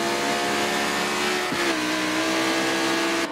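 Race cars lap the Brands Hatch circuit in the racing video game Forza 7, trailing a Ferrari 458 Italia. A loud, continuous engine drone holds steady throughout, with a brief pitch dip partway through as revs shift.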